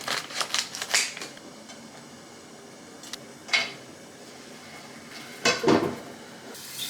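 A frying pan handled on the stove before cooking gyoza: scattered metallic clanks and rattles, a cluster at the start and single knocks later, close and fairly loud against a quiet background, with no voices.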